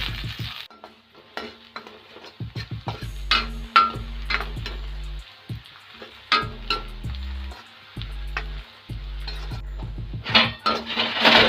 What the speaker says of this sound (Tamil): ஆயில் காஞ்சோடனே வெங்காயத்தை சேர்த்துக்கலாம்.